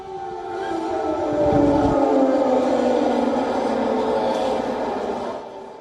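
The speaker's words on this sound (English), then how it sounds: "These were air raid sirens you heard," Air raid sirens wail over Kyiv just before New Year's midnight, several long, layered tones rising and holding in a steady mournful chorus, loud and sustained, echoing from a distance with no voices.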